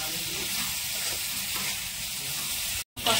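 Eggplant and river fish frying and being stirred in a pan, a steady bright sizzle with soft scraping of the stirring, briefly cutting out near the end.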